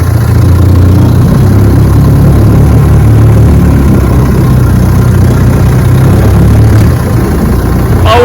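A 1958 Johnson 18 HP FD-12 outboard motor idles steadily and loudly up close, a constant low rumble with no change in pitch throughout.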